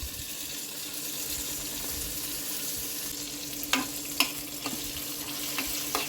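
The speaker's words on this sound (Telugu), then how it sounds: "ఇక ఇప్పుడు మెంతులు కూడా ఫ్రై అయినాయి," Fenugreek seeds frying in a pan give a steady, moderate sizzle throughout, with a few brief clicks of a utensil near the end and no speech.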